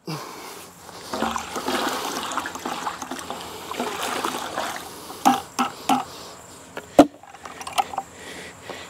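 A water mixture for watering a newly planted tree is stirred in a container, giving a close sloshing, trickling swirl followed by several sharper splashes and knocks near the end.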